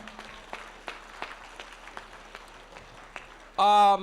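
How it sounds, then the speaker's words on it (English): Scattered, sparse hand claps from a gala audience honour a veteran, fairly faint and uneven, then a loud tonal burst cuts in near the end. "I'd like to give him a hand clap."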